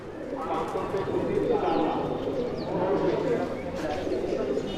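Black Saharanpuri pigeons coo in a dense, murmuring low chorus nearby, steady throughout with faint higher chirps and a busy background that may hold voices.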